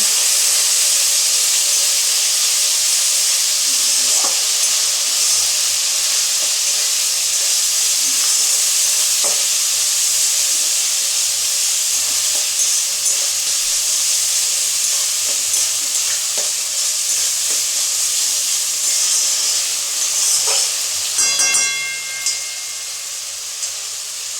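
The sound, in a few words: spices with chilli powder frying in a pan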